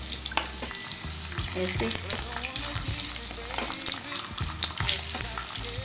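Boiled eggs frying and being stirred in masala in a pan, with a constant sizzle broken by scraping and clinking of the spoon, heard close. A voice speaks briefly.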